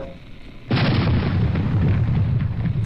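Rockets launching from an airship in the steampunk battle game Air Buccaneers: after a quiet start, one loud, sudden blast arrives, then a sustained roaring rumble fills the rest of the moment.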